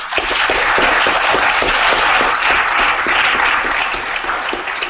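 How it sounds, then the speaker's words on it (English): An audience breaks into sustained applause after a guest's appearance, a loud continuous burst of many people clapping and a few cheers that holds steady throughout. "let's give him another round of applause"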